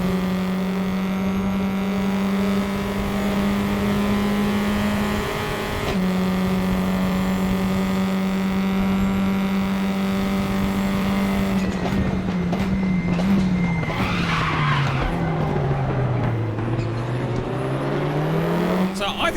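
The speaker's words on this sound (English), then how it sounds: "If you turn the engine sound up, you can have a brief appreciation of the engine note here." Tatuus single-seater race car engine in the RaceRoom racing game, a sustained high-revving note holding steady, then climbing and falling through gear changes and revs in the later half, loud and continuous with no talk.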